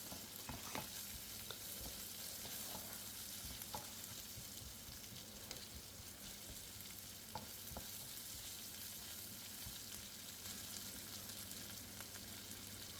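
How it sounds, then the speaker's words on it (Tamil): Chopped onion sautéing in a pan of oil for beetroot rice, a steady close sizzle running throughout with occasional soft stirring scrapes and taps, no voices. "அதோடு வெட்டி வச்ச வெங்காயத்தை போடுறேன். அதுவும் கொஞ்சம் வதங்கட்டும்."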